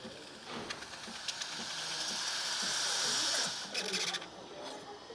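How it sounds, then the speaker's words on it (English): A Breville Barista Express Impress espresso machine steam wand purges with a hissing burst of steam that builds and rushes for a few seconds, then sputters and trails off, close and fairly loud. "Going to purge my steam wand."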